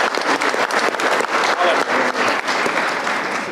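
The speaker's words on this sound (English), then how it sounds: "Give him a round of applause for getting up there" An audience breaks into dense, steady applause for someone who has just finished a turn in front of the group. The many overlapping claps hold at an even level throughout.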